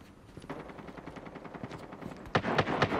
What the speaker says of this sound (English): we're gonna try using the pistol